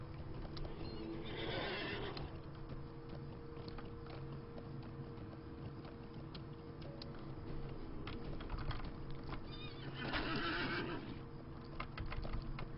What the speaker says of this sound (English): Runaway horse.